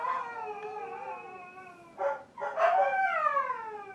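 A husky dog howls in long, wavering, drawn-out notes, broken by a short pause and a couple of yelping bursts before the howl resumes, fairly clear against a quiet background.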